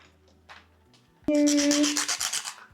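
A nail file rasps across the edges of a fingernail in a fast, close burst of scratchy strokes that starts abruptly and runs about a second and a half, following a few faint taps.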